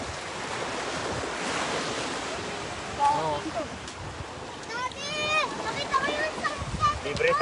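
Wind gusts and ocean surf wash steadily at the shore, a broad rushing roar with microphone buffeting, while people talk nearby over it.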